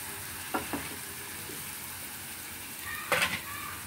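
Onions and spice paste frying in a pan for a yogurt katla fish curry, a steady soft sizzle with a few brief stirring scrapes, faint and close, no talking.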